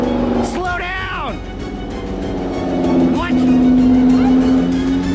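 A fast car in a game-themed chase speeds past with a loud, rising then falling engine roar, while people shout and talk excitedly over it.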